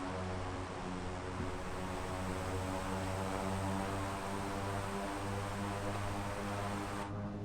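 A Dornier Seastar amphibious aircraft in Microsoft Flight Simulator 2024, its engines droning with a steady tonal hum and broadband rush, holding a constant loud level and no voices.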